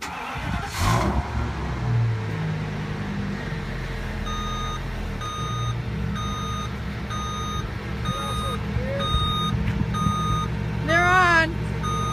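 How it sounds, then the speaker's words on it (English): A bus engine idles while its reverse alarm beeps in a steady, evenly spaced series; a brief warbling chirp near the end. "The beeping, the reverse beep."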